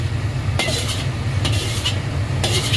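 Steady sizzling and scraping of black sesame fried rice being stirred in a hot pan, with periodic metallic clinks of a utensil against the pan.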